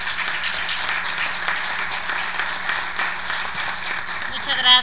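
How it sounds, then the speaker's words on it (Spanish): Audience applause at a forum in Mexico on the family institution, steady loud clapping from a crowd throughout, with a voice over the PA partly heard. "de la diputada federal Norma Edith Martínez, a quien les pido por favor que la reciban con un gran aplauso"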